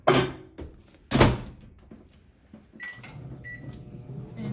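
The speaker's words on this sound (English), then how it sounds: "I'm about to place it inside the microwave for 1 minute and 30 seconds." Clear soap base pieces being set into a microwave oven: two sharp thunks from the door or tray stand out near the start, followed by softer handling clatter and a low steady hum once the oven runs.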